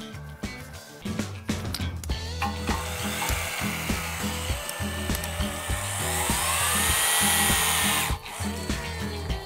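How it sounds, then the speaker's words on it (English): Impact wrench gun held on the trigger while tightening a steel bolt, hammering in a rapid rattling burst that builds to a loud continuous whine before cutting off briefly and resuming. "I'm going to hold my finger on the trigger of the gun and we're going to see what kind of tension we get"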